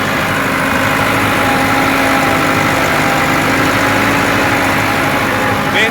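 A blue ATS 290 tractor with a rotavator idles steadily nearby, a loud, unbroken engine drone with constant vibration throughout.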